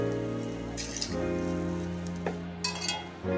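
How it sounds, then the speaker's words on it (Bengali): Lentil and egg pakoras frying in hot oil in a wok, a steady close sizzle with small crackles and a few brief clatters over constant bubbling. "তেল গরম হয়ে গেছে, আমি এবার দিয়ে দিচ্ছি কড়ায়, এক এক করে দিয়ে দেবো।"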